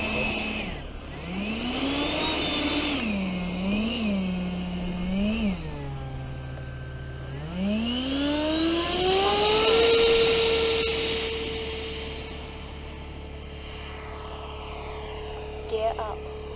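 An HSD 105mm Super Viper model jet on 12s power taxiing, its turbine whining and wavering in pitch, then spooling up to a loud, steady high whine that slowly fades, with voices nearby.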